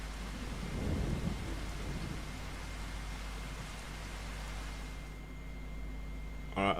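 Steady rain with rolling thunder in the farming game Farming Simulator 25, a dense even hiss with low rumbles swelling near the start, continuing unbroken and alone.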